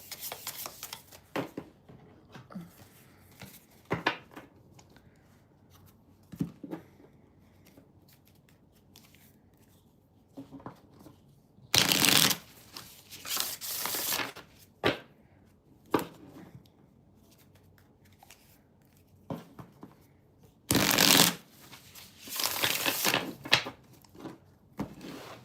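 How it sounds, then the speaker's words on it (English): Tarot cards being shuffled during a live reading, several loud riffling bursts separated by quieter handling and soft rustles, close to the listener with no talking. "Let me just shuffle these."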